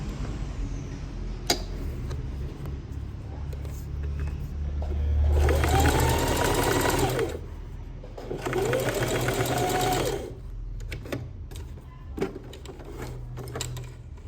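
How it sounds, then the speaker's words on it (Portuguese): A sewing machine runs in two bursts of a couple of seconds each, stitching a fabric pocket onto plastic for a children's multipurpose pouch, with a steady whirring hum, a pause between runs and quiet handling noise around them. "Eu vou fazer uma costurinha de segurança aqui só para juntar esse bolso com o plástico."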